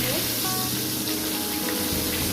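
A katla fish head frying in hot oil in a wok, a loud, dense sizzle crackling close throughout the short moment.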